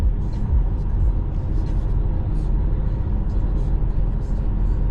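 Car cruising on the road at 65 mph on aftermarket wheels with some vibration, a steady loud interior road and engine rumble throughout.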